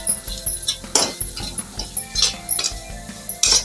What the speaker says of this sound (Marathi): हे सुके मसाले आपण छान मिक्स करून घेऊया